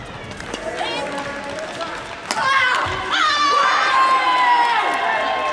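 A para-badminton player's loud yell after winning a point in a women's doubles gold medal match, rising over arena crowd noise and cheering, with a commentator talking underneath.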